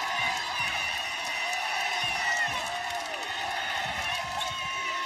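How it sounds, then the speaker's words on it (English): A basketball arena crowd at a Gonzaga men's game against Pacific roars and cheers loudly throughout, with squeaking sneakers on the court and a commentator speaking over the noise. "The crowd explodes."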